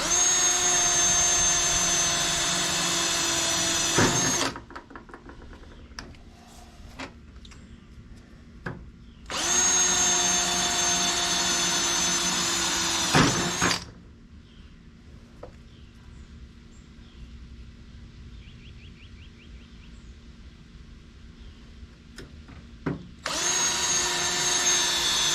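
A power drill bores holes in a lawn tractor's metal, three loud whining bursts of several seconds each, separated by quiet gaps with faint clicks and handling noises, close up.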